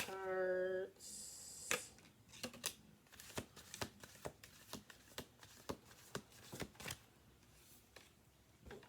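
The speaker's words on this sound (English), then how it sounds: "we're going to do 2 more shuffle throughs" A deck of cards is shuffled up close: a brief tone opens, then a quick riffle gives way to a string of crisp, irregular snaps and taps over several seconds in a quiet room.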